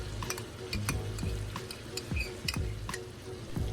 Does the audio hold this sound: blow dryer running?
no